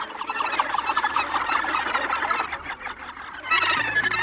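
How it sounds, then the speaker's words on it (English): A gannet colony at Cape Kidnappers, New Zealand, a dense clamour of harsh overlapping calls from many birds, loud and continuous, with a low engine-like drone near the end. "Gannets have been nesting at Cape Kidnappers since the"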